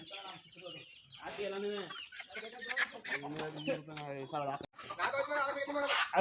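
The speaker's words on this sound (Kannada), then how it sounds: "ಇವೆಲ್ಲ ನಾಟಿ ಕೋಳಿ ಮರಿಗಳು" Native country (nati) chicken chicks in a village, clucking and peeping in repeated, uneven bursts close by, with brief pauses between calls.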